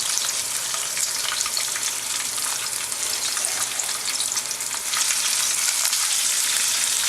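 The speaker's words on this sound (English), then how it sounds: "We're just going to add our greens right in." Greens sizzle steadily in a hot pan, with a loud, continuous, bright frying hiss and faint stirring that lasts throughout and stays close.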